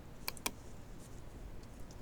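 Two quick, faint clicks close together from a computer mouse button while working in Photoshop, over a quiet background hum.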